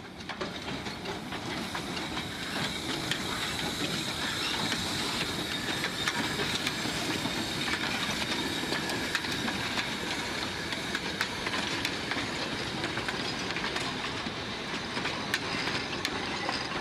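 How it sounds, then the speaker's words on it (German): A narrow gauge steam train on a tourist line running from Moldovița in Romania, heard continuously and fairly loud with steady hissing steam, rolling wagon noise and faint clickety-clack of wheels on rail, no voices. "Dampfzug von Moldovica nach Argel."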